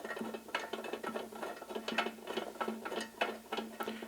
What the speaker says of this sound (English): So I'm taking off these nuts